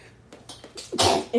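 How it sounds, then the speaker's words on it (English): A single sneeze, a short intake of breath and then a sharp burst, close and fairly loud. "Anytime I spray spritz, I sneeze."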